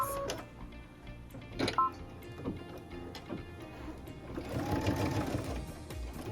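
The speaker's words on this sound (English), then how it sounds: "then I can come and stitch that final stitch here before we do those bottom pieces" Domestic sewing machine stitching ribbon onto a quilted wall hanging, close, in short bursts of rapid mechanical whirring broken by pauses and small clicks of handling, with a longer run near the end.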